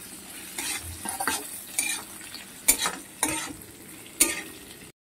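Capsicum and onions for chilli paneer stir-fried in a hot pan, a steady sizzle broken by several sharp scraping strokes of the spatula, close and fairly loud, with no talking.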